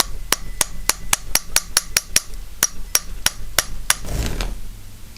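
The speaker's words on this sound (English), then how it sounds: "get the hammer, little hammer, and just tap it." A small hammer taps on a part of a British Seagull Plus 40 outboard motor, about fifteen sharp, close, evenly spaced knocks. A brief shuffling noise follows.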